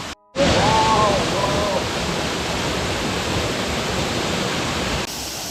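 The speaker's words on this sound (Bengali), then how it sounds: "দূর থেকে এই ঝর্ণার শব্দ কানে আসছে" The Rupali waterfall in Bandarban, swollen with rainy-season water, roars as a loud, steady rush of falling water, starting abruptly after a brief moment of quiet and continuing unbroken.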